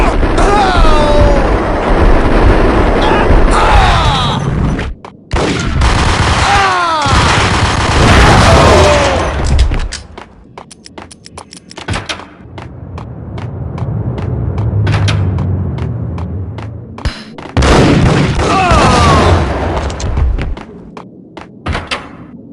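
Loud gunshots and heavy thuds ring out in Max Payne, breaking up stretches of shouted game dialogue, with abrupt bangs, short silences and a rumbling swell in the middle.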